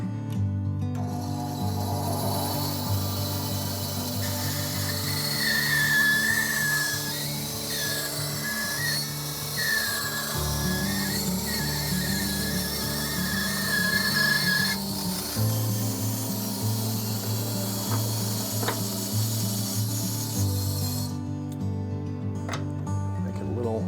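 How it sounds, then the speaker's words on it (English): A bandsaw rips a strip of wood for a gallery clock restoration, a loud, steady motor whine with a rough cutting rasp that runs continuously for about twenty seconds before cutting off. "we're going to be cutting it on the bandsaw just to get a strip just roughed in"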